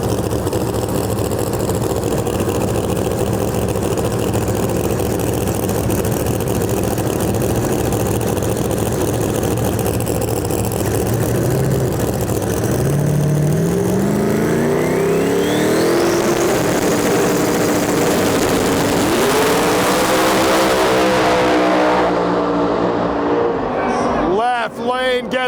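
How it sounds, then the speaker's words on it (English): Drag racing cars, a Chevrolet Nova and a Camaro, roar loudly down the track in a long, sustained engine blast, with rising harmonic sweeps as they accelerate before the sound cuts away near the end. "Beautiful Nova in our lane, Camaro far side of the track."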